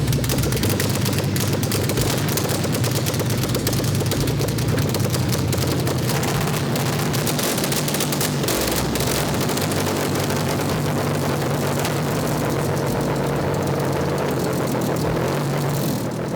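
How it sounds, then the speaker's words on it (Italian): An Alfa Romeo GTV6 engine fires up again and settles into a loud, steady idle, a continuous rumbling drone with no voices over it. "il motore è ripartito, sembra tutto regolare"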